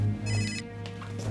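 A mobile phone rings indoors in a German TV drama scene, a steady electronic ringtone with layered tones sounding for over a second, fairly loud and close, with no talking.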